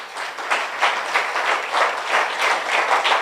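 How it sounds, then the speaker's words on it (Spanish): A church congregation claps in a steady rhythmic beat during a Spanish-language service, loud and even, with pulses roughly every half second. "Dale un aplauso al Señor en esta mañana."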